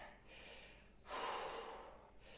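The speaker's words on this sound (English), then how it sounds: "Puffing and panting now" Heavy, breathy panting from someone recovering after an over-50 home circuit workout, a long rushing exhale swelling midway and trailing off, close and fairly quiet, with no talking.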